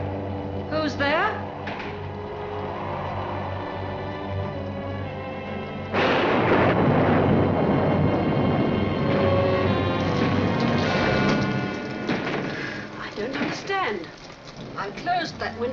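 Stormy night in a 1946 adventure film, The Spiral Staircase: steady rain and a loud thundery rumble surge in partway through, filling the scene beneath music and people talking.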